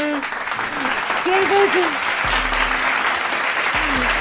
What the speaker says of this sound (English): Clap it up, man.